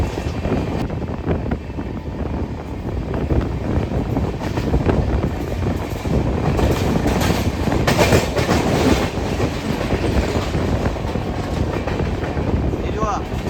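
The 12333 Vibhuti Express runs at about 85 km/h past the Liluah car shed on the Kolkata to Varanasi line, its steady rumble and clickety-clack continuous and close, with wind buffeting the microphone.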